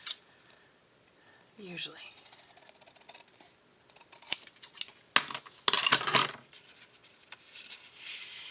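Scissors snip paper for a small strawberry shaker album, giving a few crisp, close cuts and rustles between quiet pauses, with brief speech near the start.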